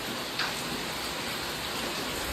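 Heavy rain falls as a steady, dense hiss, close and even across the short stretch, with no voices.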